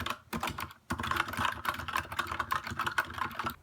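Typing on a Redragon K552 mechanical keyboard fitted with Gateron Red switches, PBT keycaps and O-rings, giving muted, thocky keystrokes in a fast, steady stream close to the mic, with a brief pause near the start.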